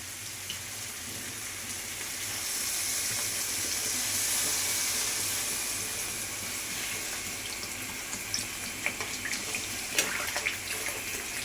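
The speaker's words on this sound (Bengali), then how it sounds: "তো এবারে আমি জল দিয়ে দেবো বন্ধুরা" Water pours steadily into a pan of simmering Bengali fish curry with potatoes and taro, a continuous rushing splash that swells and fades, with light bubbling and clinks near the end.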